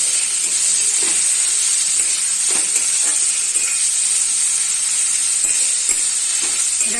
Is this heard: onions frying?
yes